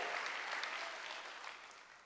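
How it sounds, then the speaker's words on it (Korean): A church congregation applauds during a Wednesday worship service, soft continuous clapping from a crowd heard at a distance, fairly quiet and unbroken. "박수야"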